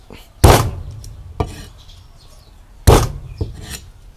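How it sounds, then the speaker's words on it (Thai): Two sharp, heavy knocks on a cutting board as a knife blade crushes shallots hard, with a few lighter taps following each one. "ผมก็จะทุบอย่างนี้เลยนะครับ ใช้มีด นี่ เสียงดังนิดนึงนะครับ"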